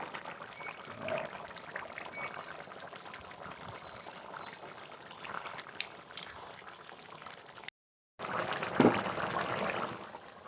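Cooked chicken and jackfruit curry being poured out of a pot, a soft continuous liquid glugging and trickling, faint and close, with a brief gap near the end.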